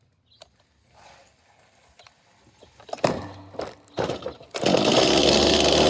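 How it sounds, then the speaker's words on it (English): A Stihl MS 250 chainsaw with a faulty stop switch sputters with a few short bursts, then roars into loud, steady running close by. "how to turn off a chainsaw when the stop doesn't fucking work"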